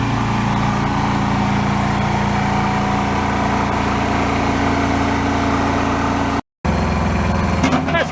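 A tractor engine runs at a steady, loud drone while towing a broken John Deere 318 garden tractor, cutting out for a brief moment near the end.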